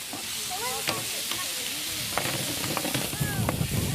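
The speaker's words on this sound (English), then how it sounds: "I'm caramelising up the garlic and the onion" Garlic and onion caramelising in oil in a pan at an outdoor cooking demonstration on a quay, a steady sizzle and hiss with occasional stirring and faint chatter in the background.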